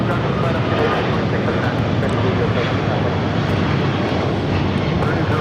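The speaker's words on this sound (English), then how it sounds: "taking off to Dallas-Fort Worth on a 777-200ER" An American Airlines Boeing 777-200ER takes off from LAX bound for Dallas-Fort Worth, a loud, steady broadband engine roar that holds at full strength throughout, close and unbroken.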